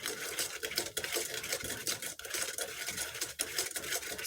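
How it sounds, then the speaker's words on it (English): Whisk beating butterscotch pudding mixture in a pot on a hot plate, a fast continuous rhythmic scraping and clinking against the pan, steady and close with no talking. "whisk this until it is smooth"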